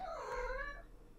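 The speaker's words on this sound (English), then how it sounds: "Cat's meowing." A single close, drawn-out cat meow with a rising then falling pitch, heard alone over a faint low hum.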